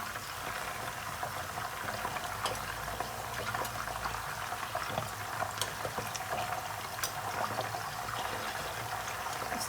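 Dum kababs fry steadily in a pan, a continuous close bubbling sizzle with small crackles throughout, no talking.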